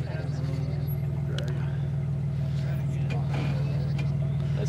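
An off-road vehicle's 3.7 engine with a Flowmaster exhaust idles and rumbles with a deep, steady throb, while people talk over it.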